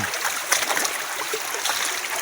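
Mountain spring water flows and trickles steadily close by, a continuous bright rushing with small splashes and no voices.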